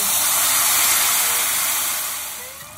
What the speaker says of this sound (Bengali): এবার এই আদা, হলুদ, লঙ্কা বাটার যে পেস্টটা, এটা এর মধ্যে দিয়ে দেব